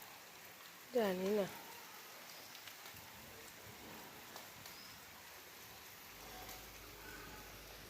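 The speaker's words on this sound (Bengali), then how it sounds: "বৃষ্টি পড়ছে, এই যে পড়ছে বৃষ্টি।" Rain falls outside a home in a steady, faint, diffuse hiss throughout, with someone briefly speaking near the start over it.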